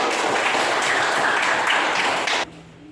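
Classroom applause for a student: a steady wash of clapping from a group at close range, holding evenly for about two and a half seconds before cutting off sharply into near silence.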